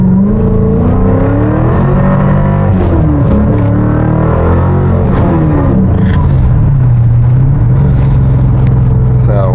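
A car driving on a cold, hard road with its tires spinning, the engine loud and close, revving up and down in sweeping tones throughout.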